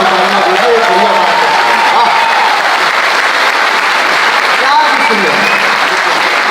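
A crowd applauds at a college kavi sammelan poetry recital at NIT Jalandhar, a loud, continuous wall of clapping holding steady, with voices mixed faintly into the roar.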